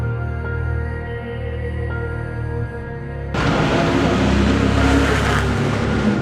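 A 2014 Nissan GT-R NISMO GT3 race car drives past: a steady low engine drone at first, then a sudden jump into a loud, broad roar that stays strong to the end.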